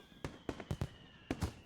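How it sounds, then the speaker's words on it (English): Fireworks bursting over a school at night in the Katawa Shoujo visual novel, a series of sharp cracking pops in quick irregular clusters over a faint steady tone. "Fireworks."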